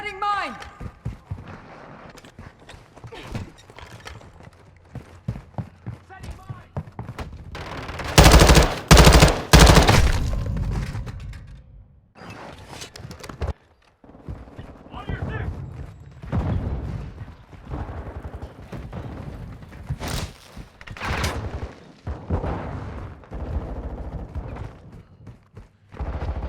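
Gunfire and explosions in the Call of Duty Vanguard video game: intermittent shots throughout, peaking in a heavy, loud burst of automatic fire midway, with voices talking over the mix.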